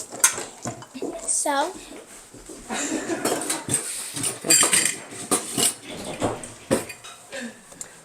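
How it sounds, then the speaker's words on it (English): Spatula scraping peanut butter from a pan in a home kitchen: irregular metallic scrapes and clinks of utensils against the pan, close and intermittent, with people talking and a dog barking briefly. "get a spatula so that we get every little bit of that peanut butter in the pan"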